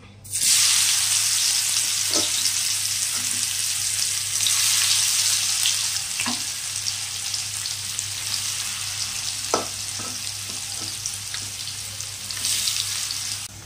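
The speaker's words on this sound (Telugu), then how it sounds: "ఇప్పుడు ఆయిల్ వేడెక్కింది. పన్నీర్ పీసెస్ వేస్తున్నాం." Paneer pieces drop into hot oil and fry with a loud, continuous sizzle. Occasional stirring knocks and scrapes sound close by over the steady hiss.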